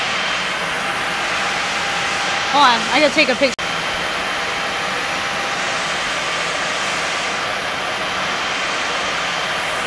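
A fixed-wing plane's engine drones steadily throughout at a municipal airport, a broad continuous roar, while someone speaks briefly early on over it.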